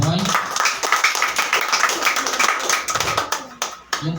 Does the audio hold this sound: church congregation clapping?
yes